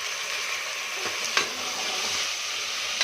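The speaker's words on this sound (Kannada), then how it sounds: "ಅವರೆಕಾಳನ್ನ 2 ಸತಿ ಎಣ್ಣೆಲಿ ಫ್ರೈ ಮಾಡ್ಕೊಳ್ಳೋಣ" Fresh field beans (avarekalu) fry in oil after onions in a pan for jackfruit sambar, giving a steady close sizzle with a couple of brief stirring clicks.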